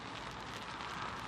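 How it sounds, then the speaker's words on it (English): Rain beginning to fall at a carp fishing lake, a steady soft hiss of drops on surfaces and a shelter, fairly faint and even throughout with no talking. "So here comes the rain."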